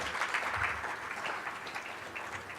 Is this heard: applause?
yes